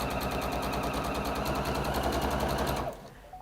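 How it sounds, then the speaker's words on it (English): A sewing machine stitches in a fast, even mechanical rattle, loud and close, running steadily for about three seconds before stopping abruptly. "So we're going to stitch around, stitch really round."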